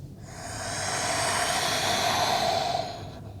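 A long, steady breathy exhale during a morning vinyasa yoga flow, swelling smoothly and then fading over a few seconds, close and alone with no talk.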